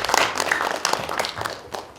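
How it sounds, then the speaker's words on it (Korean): An audience at a basic income forum's founding meeting claps vigorously, a close burst of mixed, uneven applause with no talk over it. "힘찬 박수 한번 쳐주십시오"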